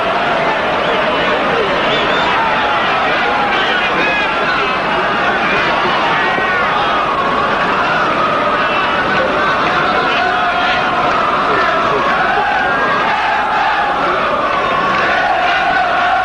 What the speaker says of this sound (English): Just the occasional natural football reaction, crowd reaction.